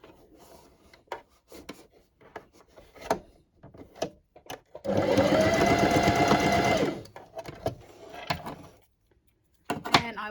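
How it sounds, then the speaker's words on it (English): A sewing machine stitches a seam on a Barbie doll's gypsy dress in one steady whirring run of about two seconds, close by. Scattered rustles and handling of fabric come before and after it. "Okay, and then I will stitch down that side."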